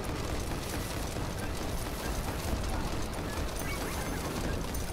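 Dense, continuous blasts and crashing debris from explosions in the vehicle survival roguelike Earl vs. the Mutants, a loud unbroken roar filling the whole span with no pauses.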